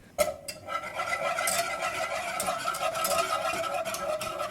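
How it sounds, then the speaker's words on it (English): A whisk scrapes and stirs flour into a white roux in a pot, a steady metallic stirring with light clinks close by, continuous without speech. "My bad, did I say wooden spoon? I meant a whisk."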